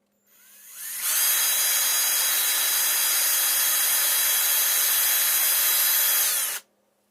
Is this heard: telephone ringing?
no